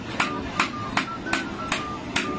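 Six sharp, evenly spaced hammer blows ring out about every 0.4 seconds, each strike with a short metallic ring, fairly close against a quiet room.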